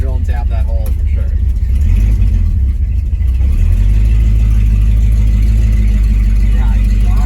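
A 1968 Pontiac Tempest with a rough, unsettled idle drives along, its engine and exhaust a steady loud rumble heard from inside the car, with a brief rise in revs early on.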